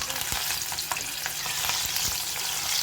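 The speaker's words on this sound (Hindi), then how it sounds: "सबसे पहले हम मिर्चों को फ्राई कर लेंगे हल्का हल्का करके।" Green chillies deep frying in hot oil for Mumbai vada pav give a steady, dense sizzle and crackle throughout, with a few soft clinks of a metal strainer, close by and with no voices.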